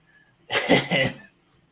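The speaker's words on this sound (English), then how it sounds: "sneezes yet again, his little ogre sneeze." A man lets out one abrupt, throaty sneeze, a burst lasting under a second that sounds close and fairly loud against a quiet background.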